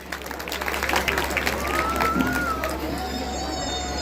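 A Bhagavat Katha audience at a Nandishala gathering in Dabwali breaks into applause for a child, a dense, fairly loud wash of clapping and crowd noise running throughout with a few voices rising above it.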